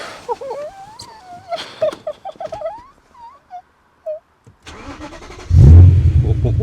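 Clicks and light handling sounds give way to a loud BMW M3 engine cranking and catching, settling into a deep, rumbling idle close by.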